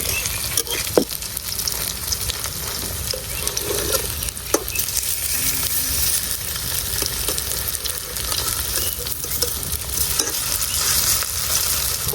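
Moringa leaf fritters fry in oil with a steady, close sizzle, and a few clinks and scrapes sound as the fritters are turned in a village kitchen.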